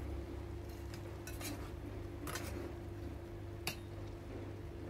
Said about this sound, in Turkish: Şöyle iyice karıştıralım ki domatesler her yerine gelsin.